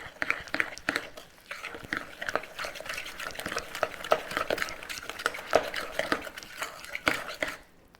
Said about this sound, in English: We want to get these nice and mixed, and I'll show you just what it should look like after I stir it.